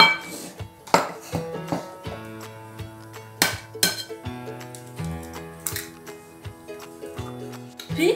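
Eggs are cracked one by one into a bowl for a pineapple upside-down cake, giving a few sharp clinking taps spread across the clip beneath steady background music.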